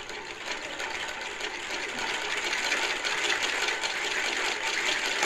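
Right-angle rope drive of two wooden cylinders turned by hand, giving a close, steady mechanical whirring and rattling that grows slightly louder, with no talk.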